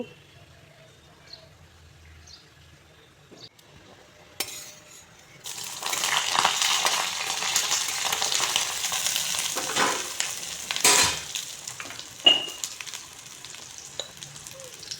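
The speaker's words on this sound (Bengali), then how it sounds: "প্রথমেই বেগুনগুলোকে ভেজে নিচ্ছি।" Eggplant slices hit hot mustard oil and start frying in a pan for a leafy red amaranth greens dish, a quiet start giving way to a steady, bright sizzle with a few clinks and stirs, no voices.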